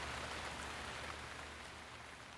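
Steady rain falls in the video game The Legend of Zelda: Breath of the Wild, an even, hissing wash of drops that holds at a constant level throughout, with no voices.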